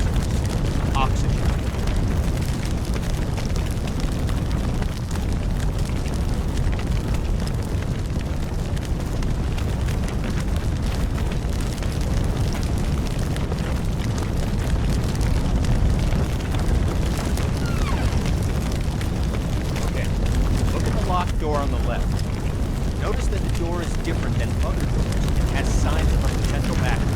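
A backdraft building behind a door in the video game Firefighting Simulator gives low, pulsing thuds over a heavy, continuous rumble, with deep booms repeating through a dense roaring bed of fire noise.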